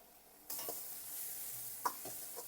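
Garlic and ginger hit melted butter in a pan for a tadka, setting off a sudden bright sizzle that holds steady under a few light stirring clinks, quiet and close.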